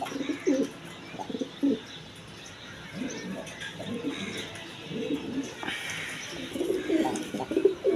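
Jacobin pigeons coo in low, repeated murmuring phrases throughout, a few brief chirps mixed in against a steady, busy background.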